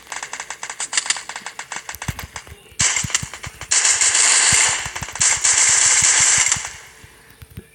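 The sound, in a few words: gunfire in a video game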